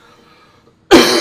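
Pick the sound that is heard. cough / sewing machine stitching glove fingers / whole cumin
cough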